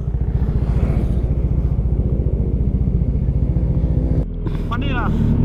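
Motorcycle engine on the Lopez bypass road in Quezon, a steady close buzzing drone with dense rapid pulsing that runs several seconds, then shifts abruptly as it passes, with people talking over it.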